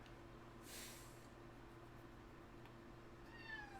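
Cat meowing faintly against a quiet room hum, one short cry early on and a rising, thin call near the end, with no voices.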